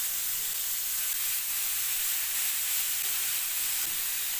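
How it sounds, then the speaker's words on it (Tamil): Chicken tikka skewers sizzle in oil on a hot tawa, a steady, dense frying hiss that stays close and even from start to finish, with no talking. "இப்போ நம்ம தவாவில் போட்டு சுட்டு எடுத்துக்கலாம்"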